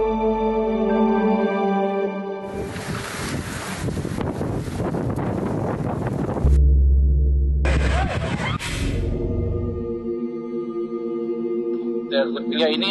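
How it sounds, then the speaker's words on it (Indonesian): Extreme, fierce wind at Nusa Penida, Bali, buffets the microphone in two loud rushing bursts, broken by calmer stretches where steady tonal sounds come through. "Ya ini angin aja, kan anginnya ekstrem di sini kencang ya"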